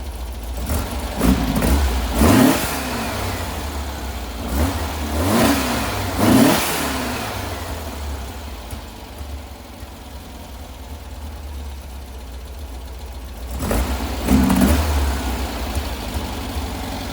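Car engine fitted with rebuilt Weber 40 carburetors revs up sharply several times in quick bursts, drops back to a rough idle, then revs again near the end, loud and close with no talk.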